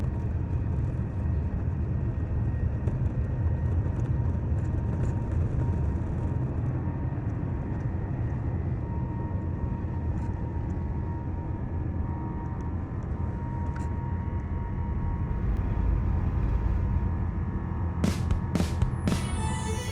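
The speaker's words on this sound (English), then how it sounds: "I love the roar of the engines and the thrust pushing you back into your seat" Japan Airlines Airbus A350 engines roaring at takeoff from Heathrow at night, heard from inside the first-class cabin: a steady, loud, broad rumble that holds for the whole stretch, with a few faint clicks near the end.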